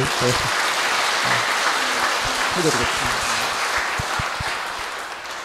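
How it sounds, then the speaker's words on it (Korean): Church hall audience at a marriage mentoring class applauding a couple, dense sustained clapping that fades slightly toward the end while someone speaks over it. "오늘 정말 그런 마음을 진솔하게 나눠주신 우리 손엘디 카타리나 부부께 힘찬 감사의 박수를"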